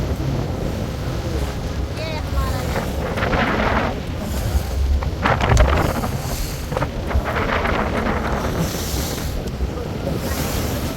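A boat heading out to open sea off Kalpeni Island in Lakshadweep, with rushing waves, wind buffeting the microphone and a steady engine rumble, people talking faintly in the background.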